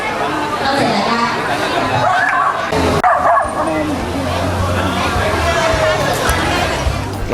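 Dogs at an animal-welfare adoption and charity sale event bark and yip intermittently amid a crowd's steady chatter and nearby speech, the barking fairly close and mixed with occasional whimpers.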